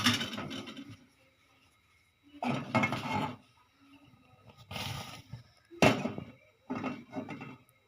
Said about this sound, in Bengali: এ তো পাতিলাটা বসাই দিলাম